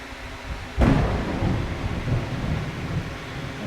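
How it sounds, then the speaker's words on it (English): A lightning strike during a storm sets off a sudden loud crack of thunder, followed by a long, rolling low rumble over a hiss of rain. "And that was a lightning strike."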